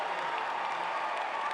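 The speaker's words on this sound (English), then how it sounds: "the crowd was in a frenzy." A basketball crowd roars and applauds in a frenzy, a dense continuous wash of cheering that holds steady from start to finish at a distance.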